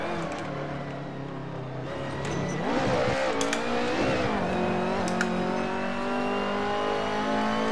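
Turbocharged race car engine in Assetto Corsa winds up through the gears, rising and falling revs with a surge partway through, loud and continuous with faint squeal-like accents.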